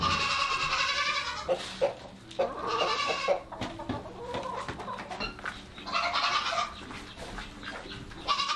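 Goats bleating loudly and repeatedly on a homestead farm, with chickens clucking among them, several overlapping calls close by in a busy barnyard.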